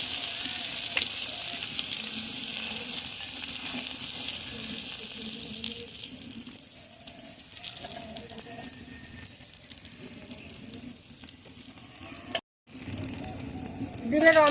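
An egg omelette fries in oil with a constant bright hiss of sizzling that carries through the whole stretch. A faint voice sits low underneath, and the frying cuts out for a moment just before the end.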